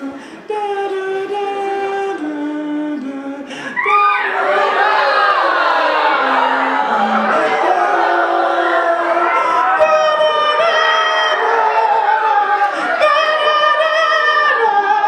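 A school poetry-slam audience bursts into loud, sustained cheering and shouting at about four seconds, a dense mass of many voices that carries on steadily to the end, following a few seconds of quieter voices.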